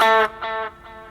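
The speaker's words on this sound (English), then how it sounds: "Now, if I switch to my solo delay," Electric guitar notes through a solo delay set to a lower mix ring out in three short bursts, each followed by a quiet, softly repeating echo tail, later phrases fainter.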